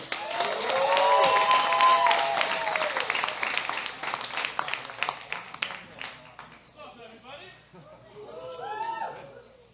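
A comedy club audience applauds and cheers loudly, the clapping swelling then tapering off as a voice begins talking over the last scattered claps.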